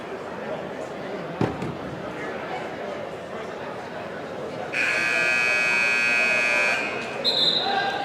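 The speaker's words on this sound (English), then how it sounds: "Buzzer sounds." A loud, steady electronic buzzer blares for about two seconds in a gym during a high school basketball game, over constant crowd noise and a commentator's voice.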